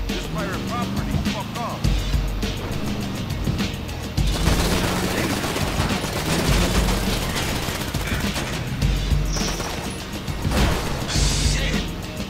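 Gunfire in a GTA Online Lowriders mission, with rapid bursts and scattered shots mixed with car engine noise and crashes, loud and busy for the whole stretch, with voices talking in the game audio.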